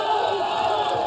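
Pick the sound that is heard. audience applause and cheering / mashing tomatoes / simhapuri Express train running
audience applause and cheering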